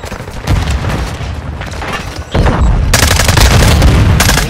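Grenade blast amid gunfire in Call of Duty Modern Warfare 2 on the Shipment map, sustained loud bursts of shots with a heavy boom jump near the middle, continuing dense and close.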